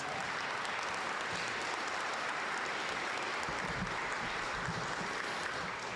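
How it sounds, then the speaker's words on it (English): Quiet, even applause rises from a town hall audience honoring two doctors at a BBAHC community health meeting. It sounds like a soft, distant wash of many clapping hands that stays steady throughout. "So big round of applause for those two doctors."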